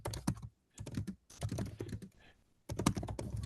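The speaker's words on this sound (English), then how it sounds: "I hear a keyboard again." Typing on a computer keyboard picked up by a meeting microphone, close bursts of rapid key clicks broken by short pauses, with no talk over them.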